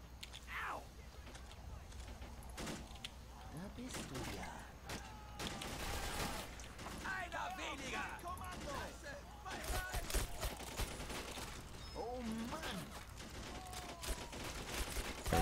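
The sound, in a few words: machine gun fire in Men of War Assault Squad 2 video game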